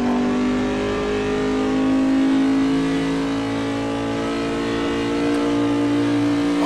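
A Dodge Charger engine in the Assetto Corsa racing game drones loud and steady under sustained acceleration, its tone holding high in top gear with no speech over it.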